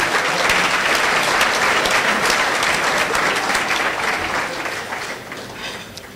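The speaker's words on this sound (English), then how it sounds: "Give them a round of applause." Sustained applause from a luncheon audience honoring a college basketball team, a dense steady wash of many hands clapping that slowly fades toward the end.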